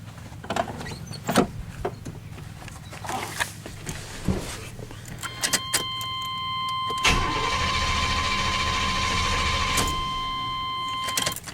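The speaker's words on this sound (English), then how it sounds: "Let's see if things crank." A 1993 Chevrolet Silverado with a hard-starting problem: clicks and clunks at first, then a sustained cranking drone with a faint whine, fairly close and with no talk.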